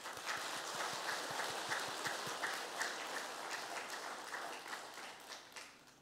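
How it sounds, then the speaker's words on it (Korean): A church congregation clapping during a Sunday worship service, producing a fairly faint, sustained wash of applause heard from across the room that fades out toward the end. "박수 한번 쳐주세요"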